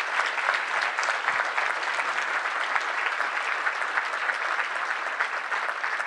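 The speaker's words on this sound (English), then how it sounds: "So can we give Melissa another round of applause?" A banquet audience at an annual pregnancy-center benefit dinner breaks into a sustained round of applause, thick, even clapping from many hands that stays loud and unbroken throughout.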